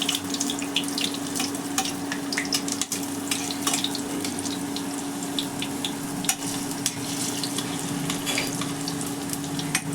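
Eggplant pakoras fry in hot oil with a loud, steady sizzle and scattered sharp crackles throughout, with no voices.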